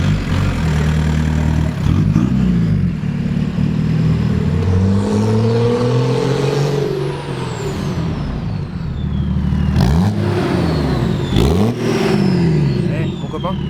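A diesel BMW 530d engine revs repeatedly during a power test, loud rising and falling sweeps close by, with a steady heavy drone between the bursts and people talking over it.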